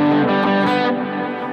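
Open, ringing distorted electric guitar notes played without palm muting sustain and blend into one another, loud and up close for a brief moment.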